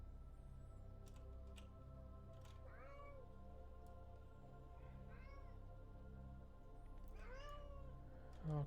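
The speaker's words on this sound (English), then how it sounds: "Oh, cat is still being very nosy." A house cat meows several times in short, rising calls spread over a few seconds, moderately close, over a steady background hum from a computer game stream.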